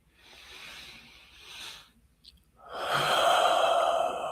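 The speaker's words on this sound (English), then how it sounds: "take a deep breath." A deep breath drawn in slowly, then after a brief pause a long, louder exhale like a sigh, close to the microphone, with no talking.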